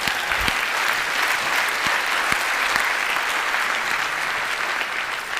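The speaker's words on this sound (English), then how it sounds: "Give Joe a round of applause." A theatre audience at a TED talk applauds steadily as a volunteer is called up on stage, with dense, even clapping throughout and a few soft thumps underneath.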